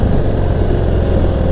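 2024 Harley-Davidson Hydra Glide motorcycle engine braking on a test ride, a steady low rumbling engine drone mixed with wind, loud and close throughout.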